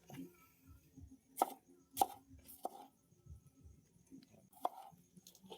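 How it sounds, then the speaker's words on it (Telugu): A knife chops tomatoes into small pieces for a coriander tomato chutney, giving a few sharp, sparse taps on a board against a quiet background. "వీటిని కూడా కట్ చేసుకుందాం చిన్నగా"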